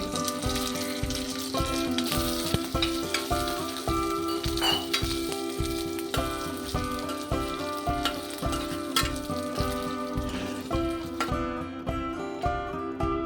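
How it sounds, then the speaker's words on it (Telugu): Dry fruits fry in ghee in a pan for semiya payasam, giving a steady close sizzle with rhythmic stirring scrapes running throughout. "అందులోనే కొంచెం నెయ్యి వేసి ఈ డ్రై ఫ్రూట్స్ అన్నీ వేసి మనం తీసుకున్నవన్నీ కలర్ వచ్చేంత వరకు వేయించుకోండి"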